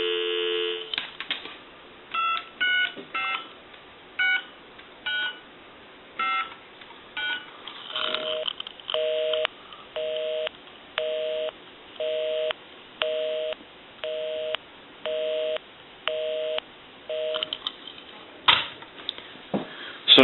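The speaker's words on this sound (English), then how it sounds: "We can call my number and it'll be busy." A Touch Tone Brass Majesty telephone dials a run of quick tone beeps, then gives a repeating busy signal of regular on-off pulses, clear and alone.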